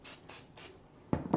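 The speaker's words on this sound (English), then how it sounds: "We're gonna take a little bit of non-stick spray here. Just spray a bowl, just very lightly." Non-stick cooking spray is sprayed lightly into a bowl in three quick, evenly spaced hissing bursts, followed by a couple of soft knocks as the can or bowl is handled.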